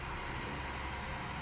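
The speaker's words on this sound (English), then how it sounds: "Engine sounds pretty good." An A-10A attack jet's engines in War Thunder give a steady, loud, broadband roar with a faint high whine, an unbroken drone at constant level and no talking over it.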